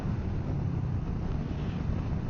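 Steady wind buffeting the microphone of a rider on a Royal Enfield Meteor 350 on an open road, a dense, constant low roar that fills the whole stretch with no speech over it.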